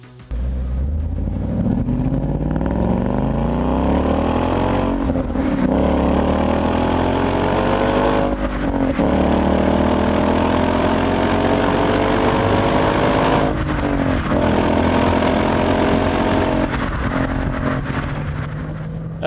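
A 2015 Ford Mustang GT V8 with revised suspension and new independent rear setup drives hard, its engine note rising through the gears in repeated sweeping pulls, loud and close with brief dips at each shift.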